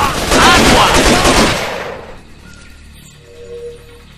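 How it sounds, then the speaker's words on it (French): Enemy gunfire in the jungle shooter Raven Squad: a loud, dense burst of automatic weapons fire for about two seconds, then it cuts off to quiet background ambience. "Essuie un feu ennemi."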